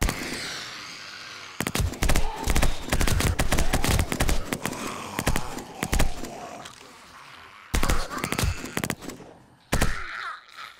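MP5 submachine gun firing in the survival game 7 Days to Die, with repeated sharp bursts of rapid shots broken by short pauses and one brief silence, loud and close.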